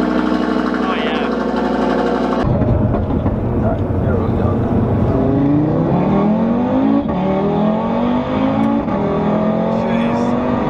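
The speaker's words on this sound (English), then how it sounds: "Race car after race car after race car, race car." Race cars pass one after another at the Nurburgring, their loud engines rising and falling in pitch as each goes by, steady and close.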